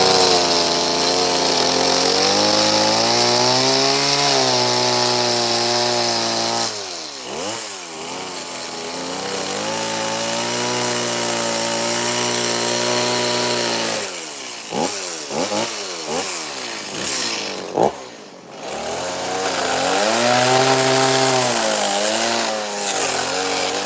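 A chainsaw carving a wooden bear for a shanty, loud and close, its engine revving up and down as it bites into wood, with brief drops to idle between cuts.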